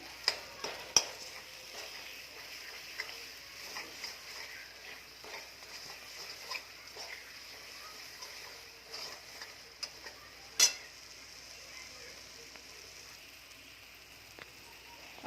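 Masala paste for mutton frying in oil in a pan, a soft steady sizzle with faint scattered ticks and stirring clicks, quiet and close with no talk.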